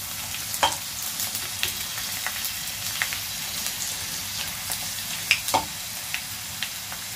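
Pork rinds fry and puff in hot oil in a home Isan-style kitchen, giving a steady close sizzle with scattered sharp pops and crackles, no voices.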